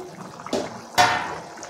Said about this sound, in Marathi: ह्याच्यावरचं आपण झाकण काढून घेऊया